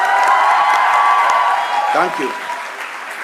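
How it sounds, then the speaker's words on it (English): An audience at a graduation ceremony applauds and cheers, with dense clapping, a few whoops and a brief voice rising over the crowd. The applause is loud and close, then thins toward the end. "A round of applause officially for Ms."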